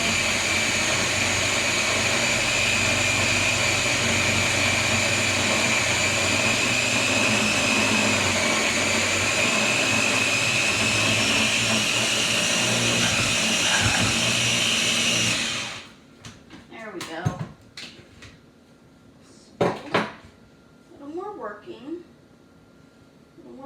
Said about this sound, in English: Blending, cutting up butter, that kind of thing.